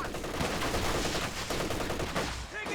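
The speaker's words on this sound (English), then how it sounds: "Incendiary rounds activated on the MG34." MG34 machine gun firing incendiary rounds in the Company of Heroes 2 video game, a dense, continuous burst of rapid gunfire with scattered battle noise, loud and close for the whole stretch.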